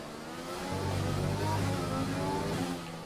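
An F1 car engine in the video game F1 2020 accelerates out of a corner, a loud, close whine climbing steadily in pitch through gear changes before easing off, with no talk.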